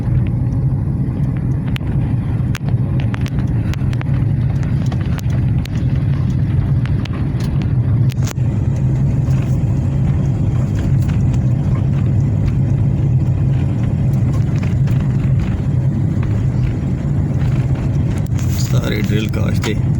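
A tractor works a cotton field in the Mianwali area, drilling in straight rows. Its engine gives a continuous, loud, low rumble for the whole stretch, with voices talking over it.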